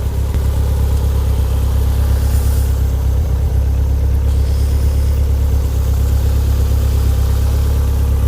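A Skoda V engine on 135 cams idles steadily through a standard exhaust with a deep, even rumble, close and loud, running without pause.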